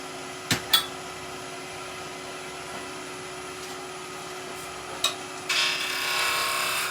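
A wood lathe hums steadily while a skew chisel shapes a small wooden Christmas tree, with a few sharp taps early on and a brighter, continuous cutting hiss building near the end.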